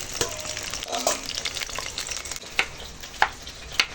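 Potatoes fry in oil in a wok over a wood fire, a close, steady sizzle with occasional sharp crackles and pops toward the end.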